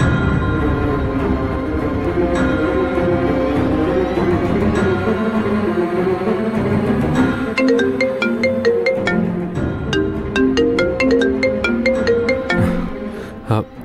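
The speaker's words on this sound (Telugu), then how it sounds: "సత్యకి ఫోన్ చేస్తాను." A phone ringtone melody plays on loop, fairly loud and steady, with no talking over it.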